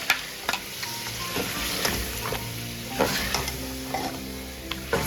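Cup of yogurt added to sizzling chicken masala for butter chicken, stirred in a pan: steady loud frying hiss with repeated spoon scrapes and clinks, close up and without speech.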